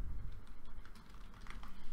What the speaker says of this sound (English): hit the Windows key on your keyboard or bring up Cortana and type in Microsoft Store